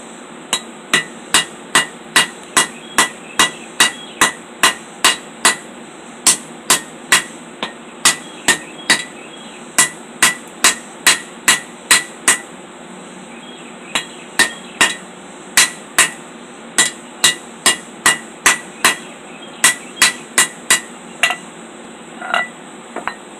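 Hammer forging a trailing point knife blade on an anvil: sharp, ringing metallic strikes in steady bursts of rapid blows with short pauses between, loud and close with no talking.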